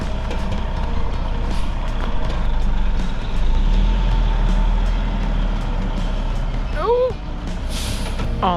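A big gravel dump truck backs onto a future shop site, its heavy diesel engine rumbling close and steady, with rising tonal beeps near the end; a voice speaks briefly over it.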